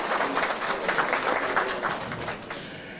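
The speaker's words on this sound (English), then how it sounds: "give yourselves a round of applause for looking so wonderful" Guests at a family homes banquet applaud in a warm, steady round of clapping from a room full of people that tapers slightly toward the end.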